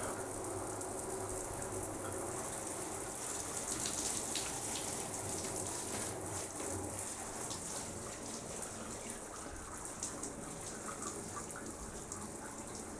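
Water running and spraying onto a Carpuride W502 motorbike multimedia touch screen, a steady hissing splash that continues evenly for over ten seconds with faint tapping on top.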